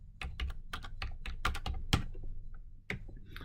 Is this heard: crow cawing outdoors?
no